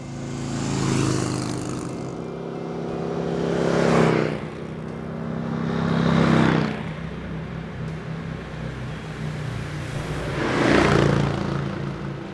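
Harley-Davidson Street Glide Special and Indian Chieftain motorcycles ride past on a mountain road, engines rumbling and swelling in several loud passes about every two to four seconds; no talking.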